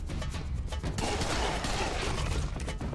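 Pistol gunfire in the video game Serious Sam: BFE, a rapid run of loud, close shots that blur into a dense, continuous burst over about three seconds.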